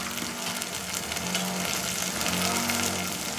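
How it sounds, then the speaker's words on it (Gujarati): Ingredients for a Kathiyawadi-style gram-flour kadhi fry in oil, with a continuous close sizzle and crackle and a faint scrape of stirring underneath. "તો આપણે તેલમાં બધી વસ્તુ ફ્રાય થઈ ગઈ છે"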